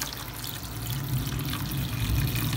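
Water is poured into a pot of browned beef for beef pares, a steady close splashing and trickling that continues throughout with no talking.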